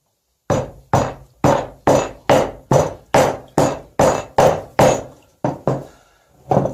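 Wooden piece hammered against leather to help shape it, about a dozen sharp close knocks in an even rhythm, each ringing briefly, with a short pause before the last few blows.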